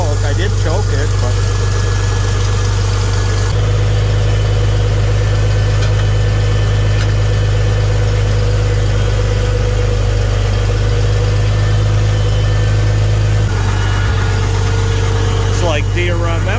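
A Farmall 756 tractor engine idles steadily just after starting, a loud, even low rumble with a brief dip in tone near the end while people talk over it.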